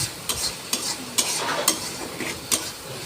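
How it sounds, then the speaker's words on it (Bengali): Spice masala for a country chicken curry sautéing in a pan, with a steady sizzle under repeated sharp scrapes of a spoon stirring it, close and fairly loud, no talking. "ভালো করে মশলাটাকে কষিয়ে নিতে হবে"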